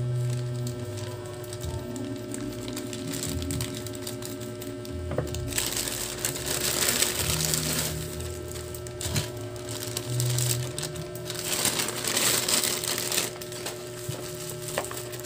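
A bubble-wrapped parcel is torn open by hand, with sustained crinkling, ripping and crackling of plastic and packaging in several close bursts over steady background hum.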